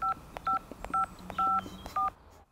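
Five short bursts of telephone keypad dialing tones, evenly spaced and clear, with a faint background hum and no talk over them.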